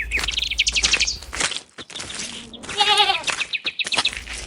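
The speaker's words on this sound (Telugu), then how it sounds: "అనగనగా ఒక ఊరిలో రామయ్య తన మేకను తీసుకుని అడవి మార్గంలో వెళ్తున్నాడు." A goat bleats in a rural forest-path setting, its wavering, harmonic calls coming mid-clip, loud and near, between bursts of bird chirping and tweeting.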